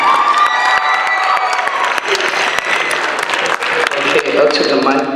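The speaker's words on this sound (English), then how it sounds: "Another round of applause for Juan." A spoken word showcase audience applauds and cheers for a poet, dense sustained clapping with shouts and whoops filling the room, loud and close, with voices calling out over it throughout.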